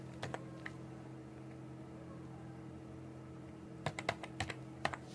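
Several sharp keystrokes on a computer keyboard, a couple early and a quick cluster near the end, faint over a steady low room hum with no talking.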